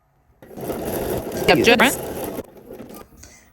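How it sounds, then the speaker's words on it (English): A sewing machine runs a line of top stitching across the upper part of a Cashmerette Hampden dress, a steady whirring motor for about two seconds with a brief pitch change midway, close and fairly loud. "So now I'm just going to do a line of top stitching on the top part"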